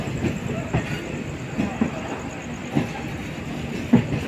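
A train travelling from Howrah toward Jasidih Junction rumbles steadily along the rails with periodic clacks from the wheels, fairly loud and continuous throughout.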